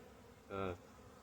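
A short burst of bee buzzing inside a garage swells up for about a quarter second, close and steady in pitch, then fades back into quiet background.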